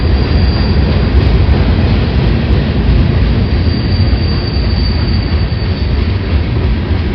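A heavy Union Pacific freight train with coil cars rolls eastbound on the BNSF Cajon subdivision main track, a loud continuous roar of wheels with steady high squealing, close and constant, with no voices.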